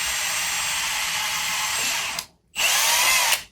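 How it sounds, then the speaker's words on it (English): A power drill bores into wood while a wall-mounted coat rack is being built, whirring loudly and steadily for about two seconds, then briefly stopping before a second short burst of drilling. "I'm going to go ahead and just drill this out kind of where I think."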